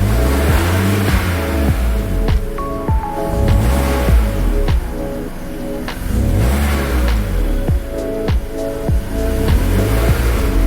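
A BMW E46 330i ZHP engine revs repeatedly, each rev rising and falling in a steady rhythm, loud and close, with no voices.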